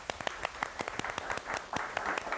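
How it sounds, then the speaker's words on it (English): An audience on a live comedy movie-review show applauds a guest, with dense, brisk clapping that stays steady and fairly close for a couple of seconds, with no speech. "thank you for a lovely applause"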